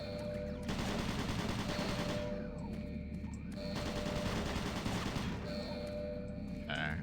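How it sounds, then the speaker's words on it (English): Automated turret guns in Doom 3 fire in two long sustained bursts of rapid gunfire, separated by a brief pause, with a steady mechanical hum and tonal alarm beneath. "Automated turret guns online."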